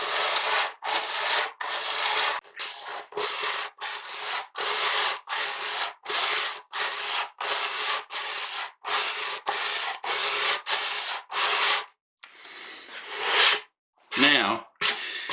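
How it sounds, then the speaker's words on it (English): Rhythmic back-and-forth strokes of coarse 60-grit sandpaper rasping on a wooden mandolin back, loud and close, repeating steadily with brief pauses between passes. "just start sanding."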